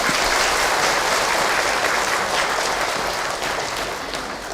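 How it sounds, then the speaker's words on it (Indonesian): An audience applauds a speaker at a religious lecture with dense, steady clapping that fills the space and fades slightly toward the end. "Tepuk tangan buat Ahilman."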